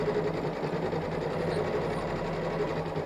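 A 500E embroidery sewing machine runs steadily at a constant speed, a continuous mechanical whir with a fine rapid stitching texture, close and even throughout with no talking.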